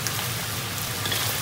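Chili peppers hit a hot wok for a beef heart stir-fry, giving a dense, even crackling sizzle like rain that holds steady and fairly loud for the short moment.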